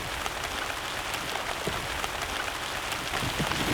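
Rain falls steadily over a farm field on a rocky island, a dense, constant hiss of drops that grows slightly fuller and heavier toward the end.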